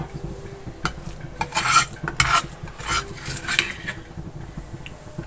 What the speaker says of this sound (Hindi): अब मैं प्याज को ब्राउन कर लूंगी।